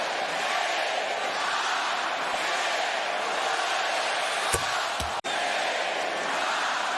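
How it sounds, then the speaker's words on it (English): Basketball arena crowd during a Bucks game, a steady loud roar of many voices chanting a countdown, with a couple of sharp knocks near the end. "Countdown continues from this crowd."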